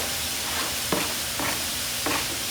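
A chopped whole onion cooks in a hot pan with a steady loud hiss of frying, broken by a few brief scraping stirs, close up, with no talking.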